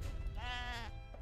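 A sheep bleats once in Age of Empires III, a short, clear, wavering cry close up over a low game-ambience rumble.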